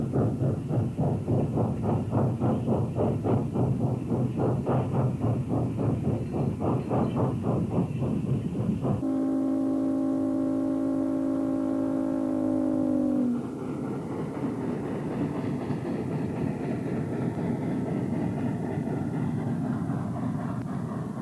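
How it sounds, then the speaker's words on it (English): An Erie double-headed steam freight train rolls over a viaduct on a mountainous Pennsylvania line, a rhythmic chuffing roar that gives way to a sustained whistle chord, then a softer continuous rumble. "An Erie double-headed freight rolls over the viaduct, and passing beneath is a Delaware and Hudson Challenger-powered freight."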